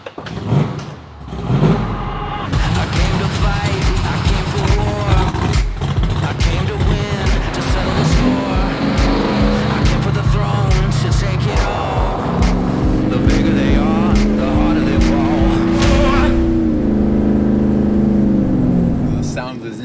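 A 600-horsepower restomod Ford Bronco XLT engine revs hard and loud up close, a steady throaty roar building and rising in pitch, with people talking over it.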